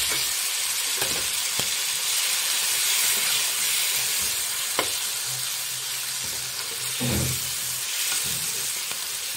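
Chicken and mushrooms fry in a pan with a constant loud sizzle and hiss, broken by occasional scraping stirs and soft clunks of the utensil against the pan, with no voices.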